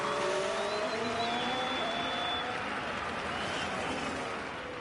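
F1 race cars overtaking in the F1 Manager video game, late in a race on worn tyres: a steady engine drone with rising and sliding whine tones, fairly loud and continuous, fading slightly at the end.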